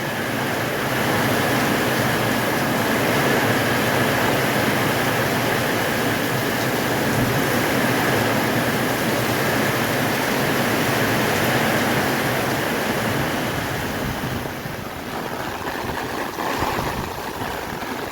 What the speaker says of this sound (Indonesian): Hujan benar-benar sangat lebat disertai angin kencang.